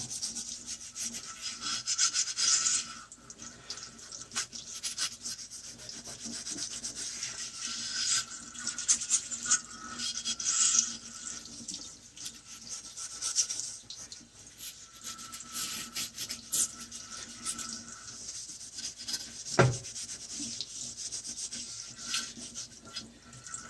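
A soapy scrubber rubs a wood stove's heat exchanger ring in brisk back-and-forth strokes, a close, continuous scratchy scouring that runs alone for over twenty seconds.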